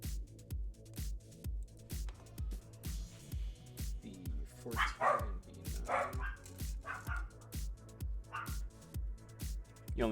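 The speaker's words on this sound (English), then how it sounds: "so the dogs are going a little bit crazy" Several dogs bark excitedly as their owner's fiancé arrives home, a rapid string of repeated woofs with higher yips mixed in, loud and close, behind a steady rhythmic background beat.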